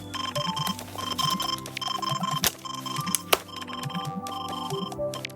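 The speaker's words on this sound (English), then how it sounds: "using his Nintendo DS alarm." A Nintendo DS alarm clock plays a steady electronic chiming melody with repeating bell-like tones and a bouncing bass line, bright and continuous, with two brief clicks partway through.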